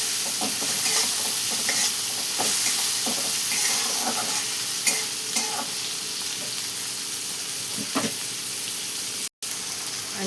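Onion frying in a pan while being stirred, a continuous loud sizzle with intermittent scraping clicks of the spoon, close up and without speech.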